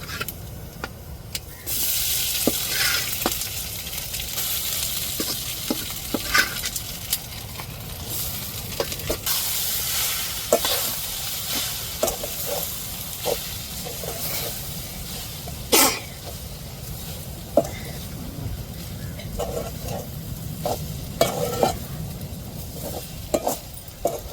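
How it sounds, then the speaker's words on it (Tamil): Fish puttu made from rock fish being stirred and fried in a pan, a steady sizzle running throughout with repeated scraping strokes of the spoon, close and fairly loud, with some coughs. "நம்ம புட்டுக்கு வந்து நம்ம கிண்டிக்கிட்டே தங்க இருக்கணும்"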